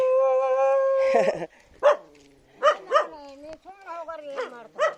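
A village dog howls in a long, wavering tone, then gives a string of sharp, close barks and yelps with short pauses between them.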